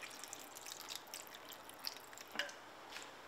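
Small splashes of water trickling into a cooking pot, faint and brief, with a few soft drips and a slight liquid squish.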